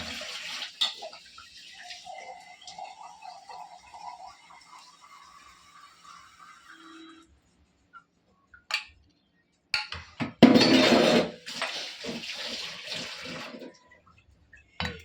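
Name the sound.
pouring water into a vessel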